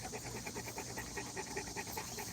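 An Americana de Presa dog pants in a rapid, steady rhythm close by, with quick even breaths running throughout and no voices.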